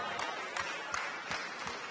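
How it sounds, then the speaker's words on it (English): Scattered applause from a funeral congregation inside a church service, with several uneven bursts of hand claps spread across a steady roomy background. "Clap your hand for that, man."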